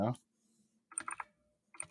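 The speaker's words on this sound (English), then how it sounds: "The clicking is my keyboard." A computer keyboard gives two short bursts of quick clicking keystrokes, close and fairly quiet, separated by near silence after a brief voice at the start.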